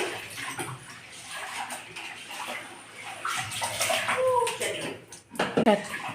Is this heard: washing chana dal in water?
yes